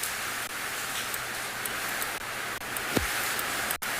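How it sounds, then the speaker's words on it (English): Rain pelts steadily on a morning safari drive in South Africa, a dense close hiss with no voices, broken by a few faint knocks. "the rain is starting to pelt down again"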